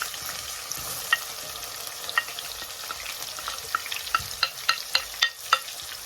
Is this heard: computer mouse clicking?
no